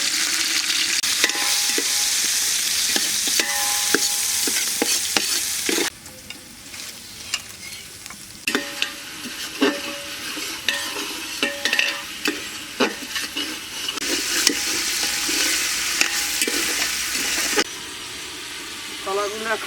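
Garlic, shrimp, green chili and salt sizzle loudly in hot oil while being stirred, with repeated scraping clinks of a spatula and a continuous crackling hiss that drops briefly and then surges again.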